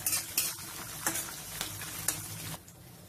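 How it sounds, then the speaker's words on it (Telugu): Dried red chillies and slit green chillies frying in hot oil in a pan for tamarind rice, a steady sizzle broken by several sharp scrapes and taps of a stirring spoon against the pan. "వీటిని మంచిగా దోరగా వచ్చేటట్టు వేయించుకోవాలి."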